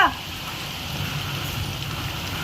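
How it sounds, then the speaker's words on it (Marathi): Soft, steady patter of rain during a sudden storm, with a brief louder sound at the start, continuing evenly throughout. "पाऊस पण चालू झालाय"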